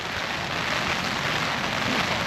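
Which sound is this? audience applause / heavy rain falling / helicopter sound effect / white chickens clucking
heavy rain falling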